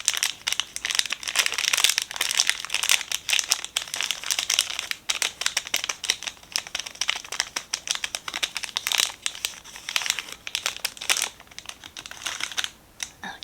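Crinkly packaging of Sakura donuts is handled up close in a dense, continuous run of crackles and crumples with sharp bursts, alone and without talk.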